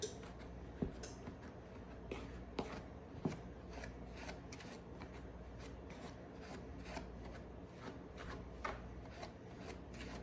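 A fork cuts cold butter into flour for wild blackberry biscuits, giving a steady close-up scraping and rasping with repeated light clicks of tines against the bowl, alone without talk.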